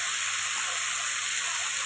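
Ivy gourd (kundri) sizzling with garlic in a hot pan, a steady bright frying hiss that runs evenly throughout with no voices.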